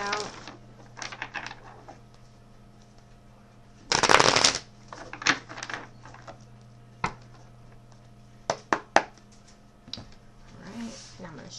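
Oracle cards being shuffled in several short bursts, with one longer, louder riffle in the middle and a few quick sharp snaps, close to the microphone.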